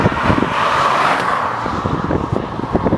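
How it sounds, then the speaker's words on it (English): A car passes by on the A9 road in the Scottish landscape, a loud close rumble and tyre roar that swells and fades over a few seconds with no one talking. "I wait till this car comes past"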